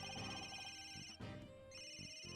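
An electronic telephone ringtone from an Ace Attorney game trills steadily for a couple of seconds, its bright tones repeating with a brief dip midway.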